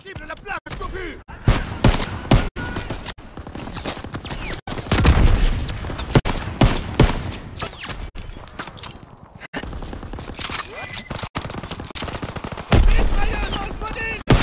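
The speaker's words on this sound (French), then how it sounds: "Mitrailleuse dans le podium! Mettez-vous à couvert! Visez cette mitrailleuse!" Video-game machine gun fire rakes a Normandy beach landing in Call of Duty WW2, with rapid bursts, sharp gunshots and occasional booms layered over battlefield noise and shouted voices.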